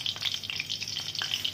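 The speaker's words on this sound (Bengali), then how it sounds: "তারপরে এবার ফোড়ন দেওয়া হবে" Dry red chilies splutter in hot oil with a dense, crackling sizzle, close and steady, and a few soft stirring scrapes come through.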